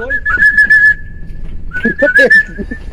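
Two short bursts of sharp, high whistling, each a sustained tone with quick chirpy flourishes, separated by a brief pause.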